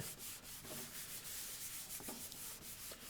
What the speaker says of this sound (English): So we're going to put this down, and you're going to start to rub it.